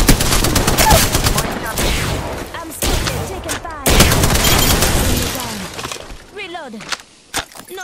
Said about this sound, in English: I'm still taking fire.